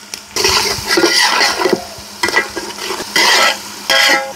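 Onion frying with garlic paste, ginger paste, chili powder, salt and biryani spices in a village kitchen. Loud, close bursts of vigorous stirring and sizzling come in several separate surges with brief pauses between them, and no one speaks.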